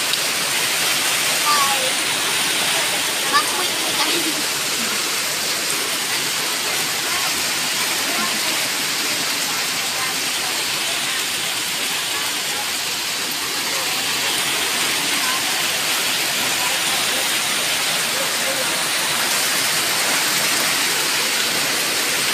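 Heavy typhoon rain pours steadily in Zamboanga City, Philippines, a dense, loud, unbroken hiss that lasts the whole stretch and drowns out most other sound.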